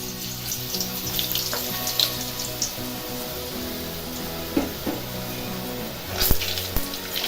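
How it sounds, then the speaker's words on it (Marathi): Drops of boondi batter go into hot oil for laddoos, giving a soft continuous sizzle and bubbling with a few light clinks and splashes, close but fairly quiet, with no speech. "आता एक ड्रॉप सोडून बघायचं आहे तेल गरम झाले का."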